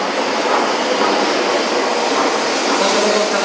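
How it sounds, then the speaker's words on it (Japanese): Loud, continuous rushing and rumbling of an E7 series Kagayaki shinkansen pulling into Tokyo Station, a steady wash of noise with no pauses. "22番線列車到着です。"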